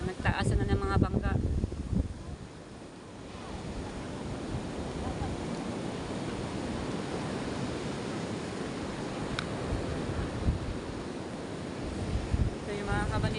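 Waves crash against a row of wooden fishing boats during strong surf, a continuous loud rush of water and wind with buffeting gusts, and a few brief voices near the start and end.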